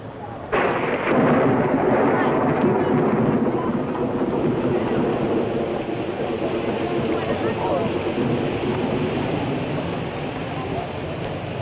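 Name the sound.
rain and thunder at the World's Fair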